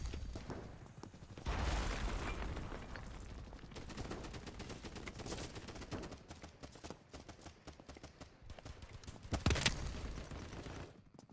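Gunfire in a block-style shooter video game, a dense run of rapid shots and clattering impacts running steadily throughout, with a louder burst near the end.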